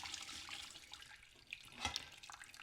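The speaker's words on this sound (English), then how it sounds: "We're just going to start dipping all of this and carefully pouring it through the strainer." Rabbit broth is poured from a measuring cup through a strainer, making a soft, fairly faint trickle with a few splashy drips, close by.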